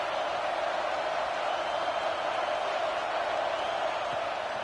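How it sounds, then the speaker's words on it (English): Steady roar of a stadium crowd at a college football game, Florida at Clemson, on a big third down, a dense continuous wash of cheering noise filling the whole stretch with no break. "Big 3rd down as the crowd gets behind this defense."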